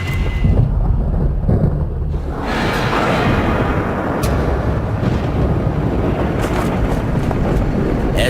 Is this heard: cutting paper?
no